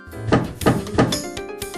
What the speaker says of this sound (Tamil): ஜேட் கதவை திறந்தாள்